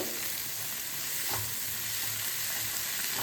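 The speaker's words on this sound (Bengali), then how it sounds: "টমেটো কুচি কাঁচা লঙ্কা কুচি আর গাজর এটা দিয়ে একটু হালকা করে শর্টে করে নেব" Chopped tomato, green chili and carrot sautéing in a pan, giving a steady close sizzle and frying hiss with faint stirring scrapes throughout, no voices.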